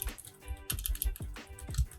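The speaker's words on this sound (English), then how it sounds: "And we're going to type" Computer keyboard keys tapped at a steady, close pace, several keystrokes landing in quick clusters while editing custom signs in Cities Skylines, with a faint background hum and no talking.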